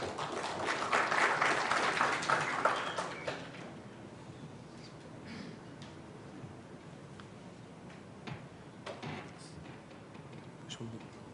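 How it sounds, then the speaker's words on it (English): Audience applause at a financial planning lecture rises in the first few seconds, then fades to scattered claps and faint room noise. "Let's have a round of applause for Mr. Gaurav Mashruwala, please."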